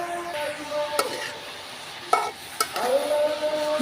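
Fish curry with vegetables, green chillies, sugar and salt being stirred in a pan: scraping spoon strokes and a few metallic knocks over a light sizzle, close and fairly loud.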